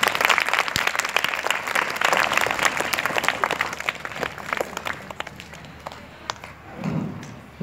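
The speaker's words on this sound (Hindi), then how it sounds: "बच्चे तालियां बजाएं।" Children applauding at a school event in Nandgaon, a continuous crowd of hands clapping loudly that gradually thins and softens toward the end, with a faint murmur underneath.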